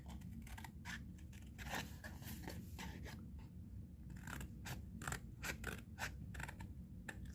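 Scissors snipping along a drawn line through paper for a craft made from a CD and tissue roll, a quick series of crisp close cuts with brief pauses between strokes.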